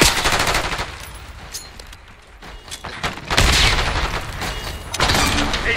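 Gunfire in Black Ops 6 multiplayer, loud rapid automatic bursts close by, easing briefly in the middle before heavy sustained firing returns, with no talk.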